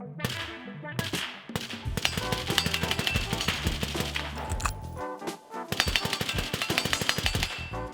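Arsenal SLR104UR rifle fitted with a Resilient Putnik suppressor fires rapid strings of suppressed shots, sharp close reports in fast bursts with brief pauses between strings.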